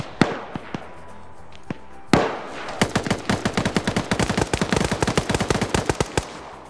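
Gunfire crackles in a PvP video game match, starting with a few scattered shots and then breaking into a dense, rapid burst of automatic fire. The shots are sharp, loud and close, with no talk over them.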